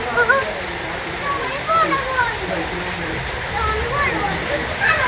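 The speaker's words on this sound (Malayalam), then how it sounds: "ഈ വെള്ളം സൈഡിൽ കൂടെ എന്തായാലും ഒലിച്ചിട്ട് ബാക്കിലേക്ക് പറമ്പ് കുണ്ടാണ്" Rainwater gushes and trickles steadily along the side of a new house after a heavy downpour, a continuous rushing wash close by, with voices talking over it.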